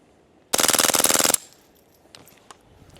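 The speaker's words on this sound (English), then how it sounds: "But the can is more than capable of shooting supersonic, but you're going to get the sonic crack just like with everything else." An AAC Pindrop suppressor on a firearm fires a rapid burst of about a dozen closely spaced, loud, sharp shots, followed by quieter trailing clatter and a couple of faint thuds.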